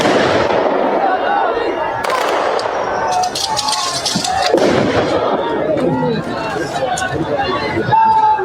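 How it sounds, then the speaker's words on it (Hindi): Forces fire a ceremonial gun salute at Ajit Pawar's state funeral: loud crackling bursts of rifle fire ring out over a dense crowd din, with voices talking throughout. "ये फायरिंग करके अंतिम सलामी दी जाती है फोर्सेस की तरफ से"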